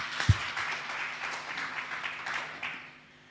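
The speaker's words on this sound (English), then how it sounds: "Let's clap for ourselves." A church audience claps in a brief burst of applause that is moderately loud and fades out toward the end, with one sharp thump near the start.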